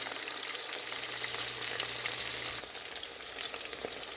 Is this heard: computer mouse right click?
no